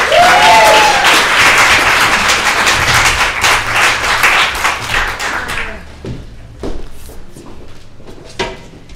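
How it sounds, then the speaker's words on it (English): An audience at a spoken word event breaks into loud applause that fades after about six seconds into scattered claps and light room noise. "give her a big round of applause"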